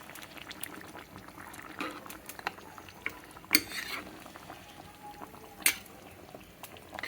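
Mutton nalli and bottle gourd curry being stirred in a pot, with scattered soft scraping and liquid bubbling and two sharper metallic clinks of a spoon against the vessel, fairly quiet and close.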